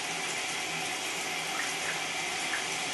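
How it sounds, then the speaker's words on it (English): Steady rushing water fills the space as a Maytag Centennial washing machine fills, a continuous broadband hiss with no breaks, like water pouring in to fill a tub or drum. "Sounds like it's filling with water."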